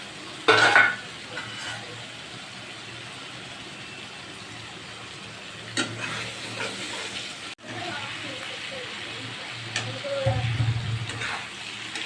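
Boiled jackfruit dropped into a pan with spices and fried prawns sizzles and crackles steadily, with brief stirring clatter over the frying and a low background hum.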